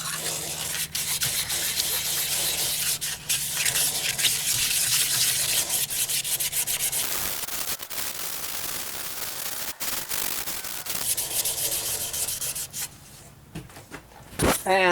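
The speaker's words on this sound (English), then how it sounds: "Wet sand it very lightly." Continuous close hiss of wet sanding a wooden ficus bowl, with a wet, gritty edge, running steadily for most of the time with brief pauses and shifts near the end.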